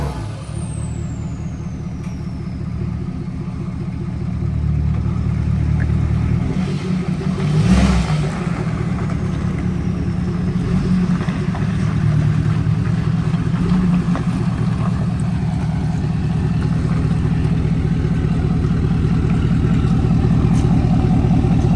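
A 2011 Ford F350 with a 6.7L Power Stroke diesel idles steadily nearby with a low, even rumble, rising slightly in level partway through and holding constant, with no talk over it.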